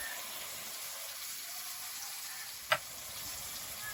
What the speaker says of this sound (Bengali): তেলটা গরম হয়েছে, তেলের মধ্যে দিয়ে দেবো কালো জিরে, কাঁচা লঙ্কা, টমেটো কুচি